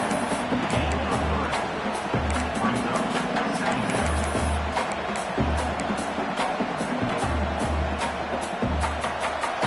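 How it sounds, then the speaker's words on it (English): Stadium crowd at an American football game, a steady dense roar of many voices with scattered shouts filling the whole stretch, heard from within the stands at constant loudness. "Listen to the crowd energy here in the early going."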